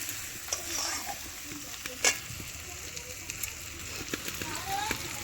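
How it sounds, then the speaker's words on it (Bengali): Onion fried until red, with ginger-garlic paste now added, stir-fries in a pan as chicken masala is prepared; a steady hiss runs throughout with scattered scraping stirs and a sharp clink near the middle, fairly close and moderate in level. "পেঁয়াজ লাল করে ভেজে ওর মধ্যে কিন্তু আমি আদা রসুন বাটাটা দিয়ে দিয়েছি এবার ভালো করে কষিয়ে নেব"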